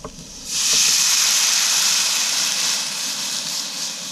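Red wine poured into a very hot pan with pepper steak and Lagavulin whisky, bursting into a loud, steady sizzling hiss that holds throughout.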